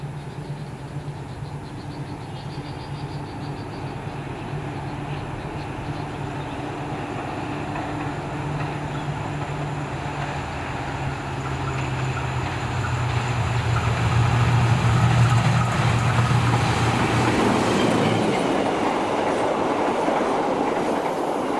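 An Argo Sindoro stainless steel passenger train passes, a loud continuous rumble with rhythmic wheel clatter that swells toward the middle and then fades slightly as it goes by.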